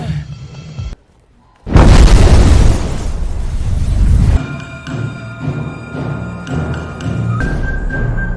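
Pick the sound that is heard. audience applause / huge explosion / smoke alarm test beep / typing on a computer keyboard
huge explosion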